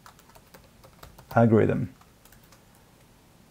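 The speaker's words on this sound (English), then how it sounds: "let's start typing" Rapid clicking on a computer keyboard runs throughout as light, irregular key taps, close and quiet, with a brief spoken word in the middle.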